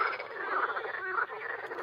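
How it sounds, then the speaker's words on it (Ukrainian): Frogs croak in a dense, continuous chorus beside water where people fish from concrete slabs, a steady rasping mass of calls with no talk over it. "Жаба, жаби квакають"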